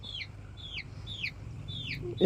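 Kadaknath hen clucking after laying eggs, four repeated rising-falling calls at an even rhythm, moderately near over a low background hum, ending with a brief clunk.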